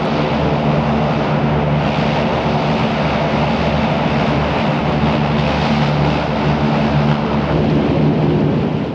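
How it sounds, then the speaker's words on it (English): An LCAC landing craft air cushion hovercraft runs its engines in a loud, continuous roar with a deep rumbling drone that holds steady throughout, no voices present. "The LCAC, or landing craft air cushion, that's what LCAC stands for."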